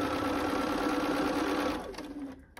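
A sewing machine stitches a quilt seam with a fast, even mechanical whir and needle chatter, close and loud, then slows and stops near the end.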